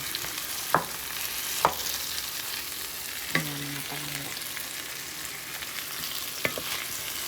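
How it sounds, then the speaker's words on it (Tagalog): Tomatoes cooking in a pan for bagoong (ginamos), a continuous close frying hiss with a few sharp spoon knocks and a brief squeaky tone partway through, no talking. "Bumili ako ng maraming kamatis. Niluto ko na ngayon kasi."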